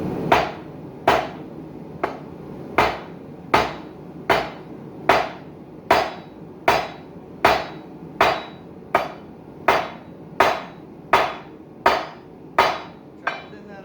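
Hot steel for a wall hook is hammered over the sharp edge of an anvil in a steady, even rhythm of about fifteen ringing blows, loud and close with no voices.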